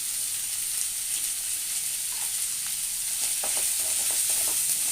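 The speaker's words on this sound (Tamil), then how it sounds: "கொத்தமல்லி போட்டு நல்லா வதக்கிக்கணும்" Vegetables and coriander sizzle steadily in a hot pan for kuzhi paniyaram, a constant bright frying hiss with occasional soft stirring scrapes, close and continuous.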